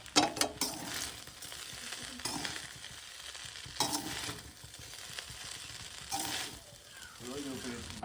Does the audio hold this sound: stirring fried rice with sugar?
yes